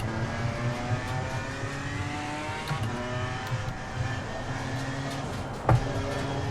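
A BMW GT4 race car engine in the Assetto Corsa Competizione racing game drones loudly and steadily, its revs rising and falling in rolling sweeps, with a brief sharper burst near the end and no talking.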